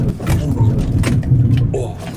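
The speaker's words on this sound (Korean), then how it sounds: "이런 게 그 ABS가 터지는 소리예요" A car's ABS kicks in during hard emergency braking, a rapid low pulsing rumble and grinding judder under road and tyre noise, loud and close throughout with a few brief clicks on top.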